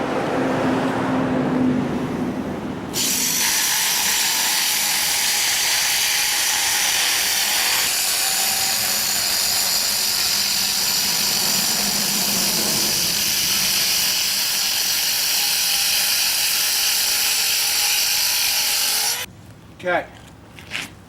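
Power saw cutting through concrete: after a few seconds of other noise, a loud, sustained high grinding whine runs steadily for about sixteen seconds, then stops and leaves brief scattered knocks.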